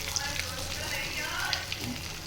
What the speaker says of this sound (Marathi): आता मी भरलेली वांगी याच्यात टाकली आहे। आता 2 मिनिटं आपल्याला हे परतवून घेऊन झाकून द्यायचं आहे।